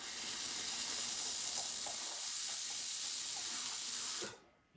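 A Breville Oracle Touch BES990BSS espresso machine's steam wand hisses steadily as it steams milk in a jug, a loud continuous roar that cuts off abruptly near the end.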